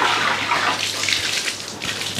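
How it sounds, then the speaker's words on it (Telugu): Water running steadily from a tap at home, a continuous close splashing hiss with no talk. "అది ఆన్ చేసుకో ట్యాప్"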